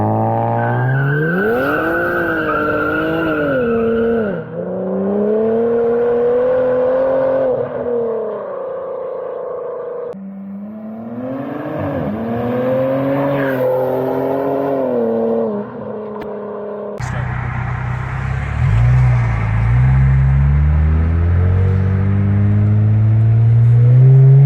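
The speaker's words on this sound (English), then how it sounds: "you're gonna see a little sneaky burnout to about 50 miles per hour in there" A Genesis G70 3.3 twin-turbo or Kia Stinger GT doing a short burnout, loud engine rising and falling through gear changes with tire squeal, then a harsh roaring launch accelerating up to about fifty mph.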